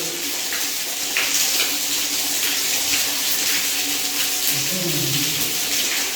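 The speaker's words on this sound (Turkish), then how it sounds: "şimdi temizlik yapacağımız peteği açıyoruz ve suyun nasıl aktığını görüyoruz." Water pours steadily out of an opened central-heating radiator as it is cleaned, a continuous close gushing hiss with faint speech in the background.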